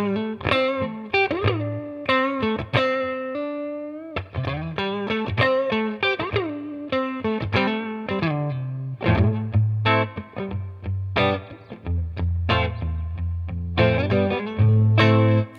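An electric guitar, a high-definition Strat-style instrument, played through a reverb pedal, ringing chords and melodic lines with a washy, effected tail, loud and continuous, with no voices.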